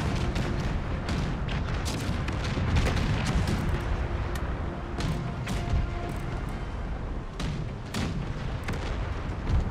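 Naval cannon broadsides boom in an Empire 2 Total War battle, a dense, continuous rumble of overlapping shots with sharper cracks popping through.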